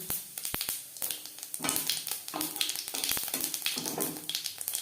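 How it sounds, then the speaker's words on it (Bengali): Half a spoon of whole cumin seeds sizzles and crackles in three spoons of hot mustard oil, a steady, close frying hiss with small pops as the tempering for an okra curry begins. "3 চামচ সরষের তেল গরম করে নেওয়ার পর ফোড়নে দিয়ে দিলাম 1/2 চামচ গোটা জিরে।"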